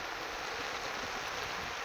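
Heavy rain has been falling since dawn near a pond and river, a dense, steady broadband hiss of downpour with no breaks. Moderately loud and even, with no voices.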